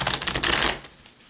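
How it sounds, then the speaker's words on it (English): A deck of tarot cards being shuffled by hand, giving a close, rapid burst of riffling and flapping for just under a second before settling into quiet. "I do want to shuffle up the cards, and after I cut them, we will get started."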